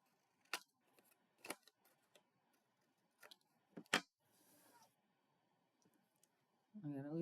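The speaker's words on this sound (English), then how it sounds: "Take your scissors. We're going to just trim off all the excess here." Scissors snip through excess paper on a Valentine craft project in a few quiet, crisp, separate cuts, with faint rustling between them and a soft voice at the very end.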